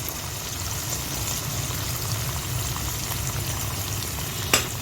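Chopped tomatoes fry with ginger, garlic and green chili for a restaurant-style fried mash daal, giving a constant, even sizzling hiss from the pan and a single sharp utensil tap near the end; no voices are heard.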